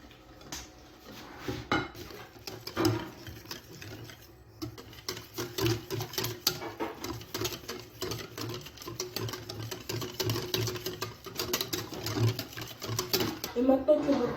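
Crêpe batter with eggs is whisked in a bowl, rapid clinking strokes coming in uneven bursts at close range while a person talks over much of the mixing.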